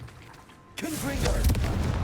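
A Confringo blasting spell explosion in the Hogwarts Legacy video game bursts suddenly after a quiet moment, a loud boom followed by rumbling, crackling debris that stays strong to the end.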